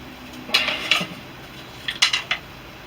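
A knife scraping and cutting across a wooden piece being shaped for a bow drill fire set, in two short bursts of three or four sharp, close strokes separated by a quiet pause.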